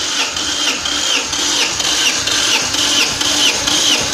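During a compression test, an engine cranks on the starter with the throttle pressed fully down. It gives a steady, loud, whirring churn with an even, repeating compression beat for several seconds.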